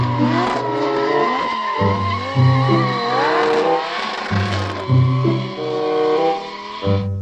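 Toy racing car sound effects: repeated engine revs and squealing tire skids, loud and close, with pitch sweeping up and down in several bursts and short gaps between them.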